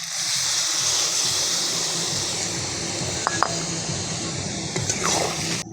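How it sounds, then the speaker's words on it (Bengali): Water poured into a pot of pumpkin and catla fish curry set to boil, a steady broad splashing, liquid rush running the whole time with a few small clinks near the end. "এবার সেদ্ধ হওয়ার জন্য আমরা জল দিয়ে দেব"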